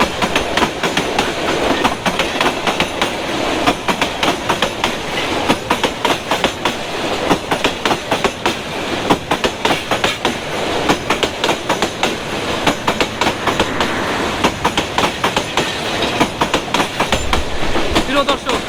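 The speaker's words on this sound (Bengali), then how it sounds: "আর এখান দিয়ে রেলটি যাচ্ছে, দেখতে পাচ্ছেন আপনারা" Train rolling along a railway line through Lawachara forest, a loud, continuous rush of wheels with rapid clickety-clack beats passing close by for a long stretch, almost no talk over it.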